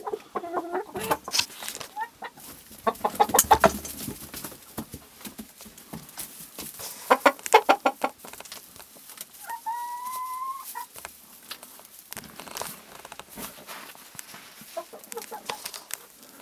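Backyard hens in autumn cluck softly and intermittently, close by and fairly quiet, with a few sharper calls and a brief drawn-out squawk partway through; little else is heard.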